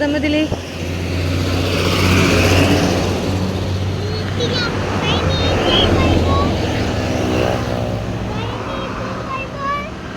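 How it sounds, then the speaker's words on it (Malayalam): A KSRTC bus approaching on an evening road, a broad engine rumble swelling and holding steady, with people talking over it. "ബസ് വരുന്നുണ്ട്"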